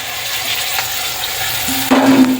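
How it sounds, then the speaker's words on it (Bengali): Okra sizzles steadily in hot oil in a pan, a close, even frying hiss throughout with a faint tonal hum rising near the end. "ভালো করে ভাজবো। এখন ঢ্যাঁড়সটা দিয়ে দিচ্ছি"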